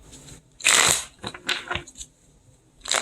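Playing cards being shuffled during a tarot reading, a few crisp riffling bursts close by, the loudest early and another near the end, with no talk over them.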